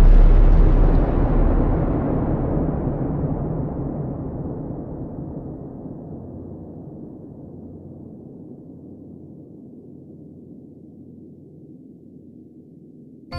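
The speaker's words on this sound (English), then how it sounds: "they haven't used the bomb yet and are curious to see if it works, so they drop it on Japan" An atomic bomb explosion over Japan: one loud, deep blast that becomes a broad roar and then a long rumble, fading slowly over more than ten seconds, with no voices.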